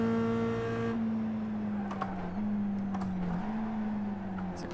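A race car in the iRacing simulator brakes into a corner. A loud engine drone drops and wavers in pitch, with faint tire scrubbing and clicks and no talking.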